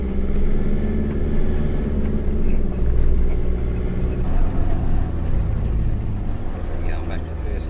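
A 4WD vehicle crawls down a steep outback station track in the Flinders Ranges in first gear, a heavy low engine rumble with road noise, steady and close, while a voice talks over it.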